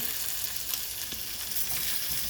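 Lobster tails sear meat side down in a hot pan, giving a steady, dense sizzle and crackle with no voices.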